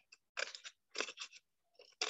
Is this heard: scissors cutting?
yes